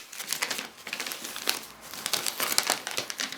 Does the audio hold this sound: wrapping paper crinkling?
yes